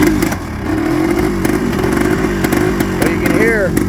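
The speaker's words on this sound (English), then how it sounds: "So you can hear it runs poorly, and I'm just cracking the throttle" A Suzuki LTZ 250 Quadsport ATV engine running poorly is revved with small throttle blips, giving a loud, close, uneven buzzing idle with rough surges, while a voice talks over it.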